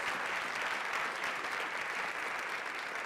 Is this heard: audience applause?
yes